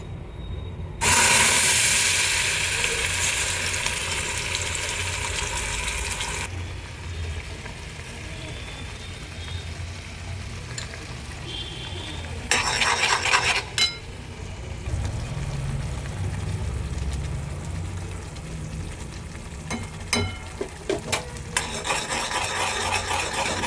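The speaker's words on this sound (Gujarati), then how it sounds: "તેલ આવે પછી નાખી દેવાનું મિક્સચર આમાં." Chutney mixture sizzles loudly in hot oil in a kadai, with bursts of frying hiss and intermittent stirring scrapes against the pan, close up and with no voices.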